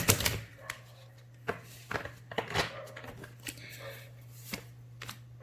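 A deck of tarot cards is shuffled by hand in a series of crisp riffling, slapping bursts, close and fairly loud, with a steady low hum underneath.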